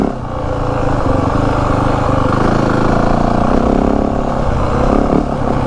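A 2025 Yamaha WR 450F dirt bike engine runs loud and close, holding a steady rough drone with slow, gradual rises in revs and no voices.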